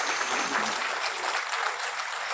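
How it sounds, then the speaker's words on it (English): Students at an international conference clap together in a brief, loud burst of applause, a dense and steady crackle of many hands lasting a couple of seconds. "give a huge round of applause for our"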